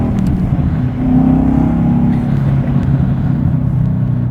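A 5.0-litre V8 engine of a 2012 Ford Mustang Boss 302 Laguna Seca rumbles deeply at close range, its exhaust note rising and settling in a steady, throaty burble with no talking.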